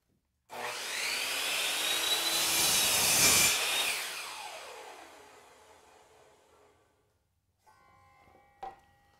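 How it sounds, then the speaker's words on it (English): A Skil miter saw makes a compound cut through crown molding: a loud whine builds as the blade bites, rasps through the wood for a few seconds, then winds down. A faint clack follows near the end. "I'll slide it over and lower the blade to align it on the waist side of that mark, and then I'll make a compound cut."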